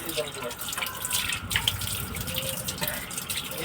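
Tap water running steadily as face and hands are washed, a continuous close gush with small splashes, while a voice talks faintly underneath.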